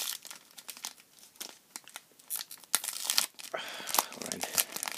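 A foil Panini Prizm World Cup 2014 card pack is torn open, close and crisp, with irregular crinkling and ripping that grows louder and denser toward the end.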